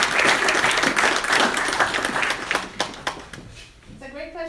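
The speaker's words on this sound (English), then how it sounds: "another round of applause for Dr." Audience applause at a TEDx event fills the room loudly and densely at the start, then thins into scattered claps and fades as a voice begins speaking near the end.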